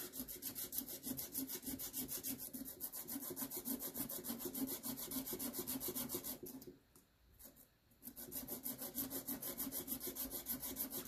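A washer from a Lucas starter motor for a Ferguson 20 tractor is rubbed clean of rust with quick, rapid back-and-forth scraping strokes, close and steady, pausing briefly before resuming.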